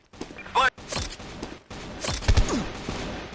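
Rapid AK-47 gunfire in a video game crackles in short bursts with heavy thumps, loud and close, with voices talking over it.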